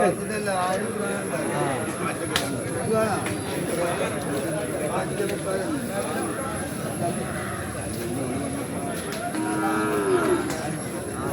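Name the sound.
buffalo calves lowing at a market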